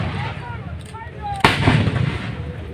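A single Indian Army Bofors artillery gun fires one round during a military exercise near Siliguri, a sharp loud blast followed by a rumbling tail over steady outdoor background noise.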